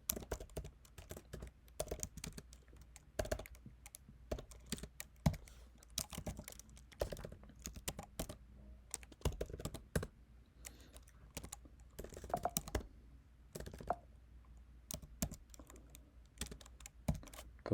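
Commands being typed on a computer keyboard: steady bursts of close, crisp key clicks with short pauses between runs of keystrokes, no talking.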